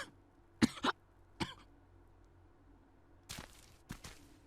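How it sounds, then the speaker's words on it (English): Coughing from the video game Hakuoki, Okita's harsh hacking: a quick pair of coughs, another single one, then a louder burst of two more near the end, close and separated by near silence. "I heard Okita hacking his lungs up as he coughed"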